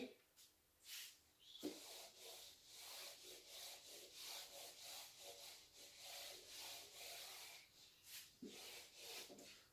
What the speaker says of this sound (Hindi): यहां जेड ऊपर से रब कर देता हूं